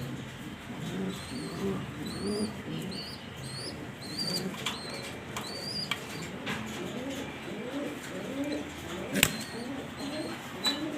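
Pigeons in a loft, including a few uncommon breeds kept with eggs and squabs, coo in low repeated phrases close by, with wing flaps and small chirps scattered through and one sharp knock near the end.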